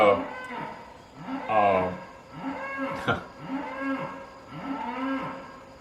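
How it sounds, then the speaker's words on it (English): Cows lowing on a farm, several long moos rising and falling in succession at moderate distance, one after another across the clip, with no talk over them. "are my cows back there."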